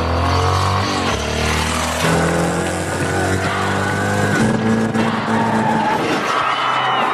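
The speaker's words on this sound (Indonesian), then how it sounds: "Brian tengah mengetes motor kesayangannya yang telah ia rakit" A home-built motorcycle test ridden on a quiet plantation in a film scene, engine droning steadily and loudly with skidding, tire-squeal texture and shifting revs throughout, no talk.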